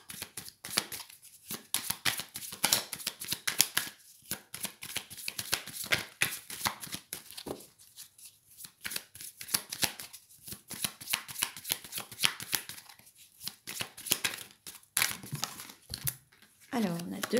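Oracle cards are shuffled by hand close up in a fast, uneven riffle of papery slaps and crinkles that keeps going, pausing briefly now and then, as two cards jump out of the deck.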